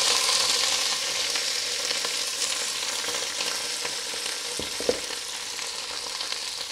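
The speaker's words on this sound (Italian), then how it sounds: "Quando vedete sfrigola comincia a soffriggere, ci andiamo a calare i nostri friarelli" Friarielli, or broccoli rabe, fry in a pan of hot oil with a steady, dense crackling sizzle that fills the whole stretch, close and fairly loud, with a brief clatter near the middle and no talking.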